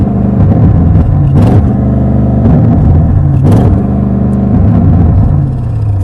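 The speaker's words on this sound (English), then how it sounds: "so you're going to rev it at traffic lights" A 2023 Audi RS7 with sports exhaust is held at high revs, loud and close, its steady roar dipping and surging as it bounces off the soft limiter several times.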